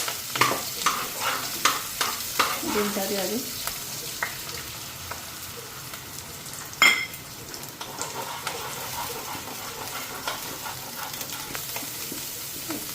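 Eggs fry lightly in a hot wok (kadai), a steady broadband sizzle with repeated scraping stir strokes, strongest early on and with one sharp clank near the middle.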